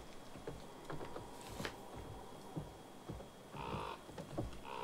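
A crow caws a few times in a tense scene from The Quarry, heard amid rustling ambience and faint patter, moderately distant and not loud.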